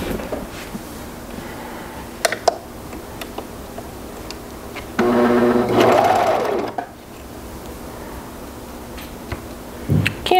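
A sewing machine stitches fabric straps along a quarter-inch seam with its trimming knife switched off. The stitching is one loud, steady run of about two seconds in the middle, with quiet ticks and clicks before and after.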